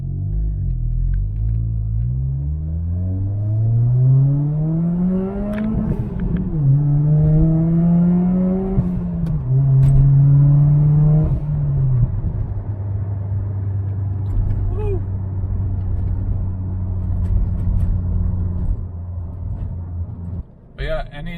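A turbocharged Toyota Corolla with a flashing traction-control light drives and accelerates, its engine rising through several gear pulls with a steady rumble, loud and close from inside the car, while a person talks over it.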